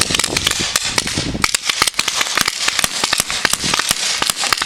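Rapid, uneven volleys of sharp paintball marker shots crack close by during an outdoor paintball game, dozens of pops in quick bursts with brief pauses.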